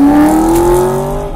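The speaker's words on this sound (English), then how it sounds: "Ooh, fast car." A fast car passing by, a loud engine drone whose pitch slides slightly downward as it goes past close by, fading toward the end, with no talk.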